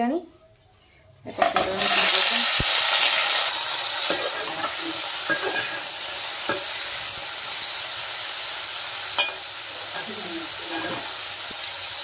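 Potatoes drop into hot oil in a pan and set off a loud, steady sizzle and hiss, broken by occasional clicks and clinks of stirring.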